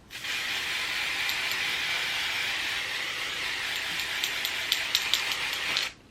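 A can of Temptation's Lace Tint Spray is shaken steadily for about six seconds, giving a continuous close, fairly loud hiss-like rattle. Several sharper clicks come near the end before it stops.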